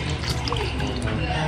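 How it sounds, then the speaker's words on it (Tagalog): A little water poured into a pot of pinaksiw fish with vinegar, pepper and salt, a soft steady trickle under continuous nearby talking. "Maglalagay din po ako ng kaunti pong tubig."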